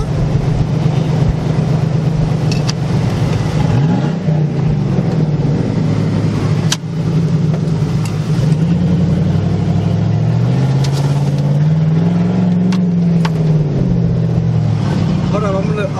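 A Hummer H2 V8 with its muffler deleted drones and rises and falls in pitch while driving, a loud, steady exhaust note that swells toward the end, with people talking over it in the cabin.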